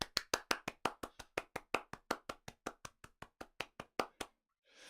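A single pair of hands clapping close to the microphone, about twenty evenly spaced crisp claps, offered as the round of applause after a conference talk, then silence.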